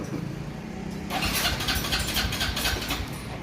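A Honda Wave 110i motorcycle that bogs down and stalls when the throttle is opened. A low idle suddenly jumps to a louder, rough engine run with throbbing pulses, close by and with no speech.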